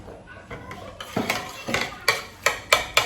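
A utensil clinks repeatedly against a bowl while fresh pepper is stirred into egg, giving a close, uneven series of sharp metallic taps that grow louder toward the end.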